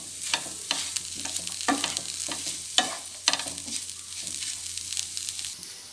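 Egg frying in a pan for egg fried rice, a soft low sizzle broken by repeated scraping and stirring strokes from a utensil, fairly quiet and close.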